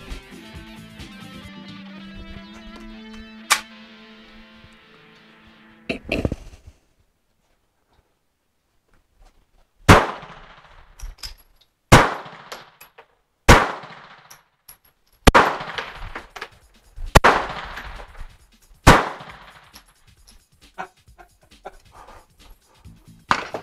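A VZ61 Scorpion fired at a gun range: a brief burst early, then a string of single loud, sharp shots spaced a second or two apart, each ringing out with a decaying tail.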